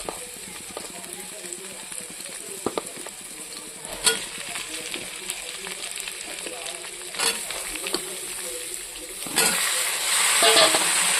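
Jackfruit seeds sizzle in a pan as vegetables such as okra are added, a steady frying hiss with occasional stirring scrapes and clatter, rising louder near the end.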